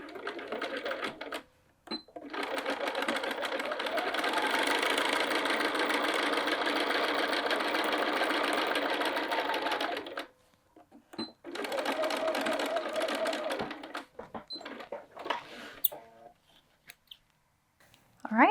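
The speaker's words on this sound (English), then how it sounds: "we have sewn the channels for these smaller pockets" A sewing machine stitching the pocket channels of a bag: a close, steady whirring run of needle strokes for several seconds, a pause, then a second shorter run, followed by a few clicks and handling noises.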